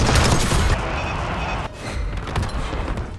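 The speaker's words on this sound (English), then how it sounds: "we blow up all 3 of the Scud launchers" Scud missile launchers blow up in the Black Ops 6 video game: a dense, loud roar of blasts and crackling gunfire-like bursts fills the first seconds, then dips briefly and swells again with further rumbling detonations.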